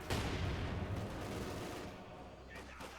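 Sustained light machine gun fire from Grenadier squads in Company of Heroes 2, a dense rattling fusillade dominating the mix, thinning slightly toward the end with faint voices underneath.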